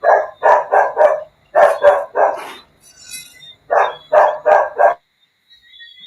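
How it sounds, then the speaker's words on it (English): A dog barks loudly and close by in two quick bursts of about four to five sharp barks each, separated by a short pause, with no talking. "BTM Curren, your dog is giving you problems, but don't worry."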